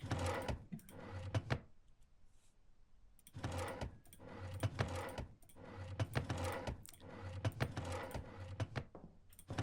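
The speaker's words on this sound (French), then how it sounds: "Je fais les tiroirs." Drawers slide open and shut in repeated rattling bursts during a search inside a mortuary in The Mortuary Assistant, with brief quiet gaps between each round of clattering.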